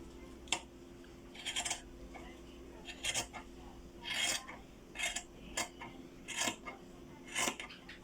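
Scissors cutting fabric for a knife-pleated skirt mock-up, a series of close, quiet rasping snips in an irregular rhythm with short pauses between cuts.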